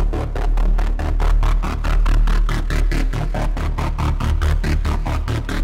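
A pulsing gated techno synth bass made in Harmor chops in fast, even gated bursts, its tone shifting rhythmically as it repeats without any talking.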